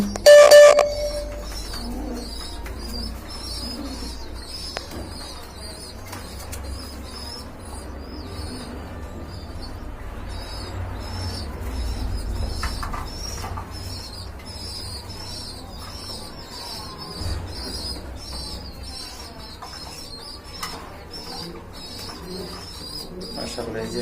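Pigeons coo softly inside a cage kept for sale with their young, a steady low murmuring with faint chirps throughout, close by and fairly quiet.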